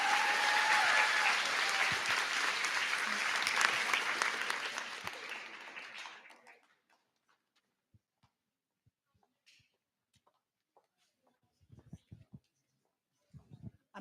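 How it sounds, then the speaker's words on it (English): A large audience at a young women's career conference applauds loudly for several seconds, then the clapping fades into near silence with a few faint scattered knocks and rustles. "Another round of applause."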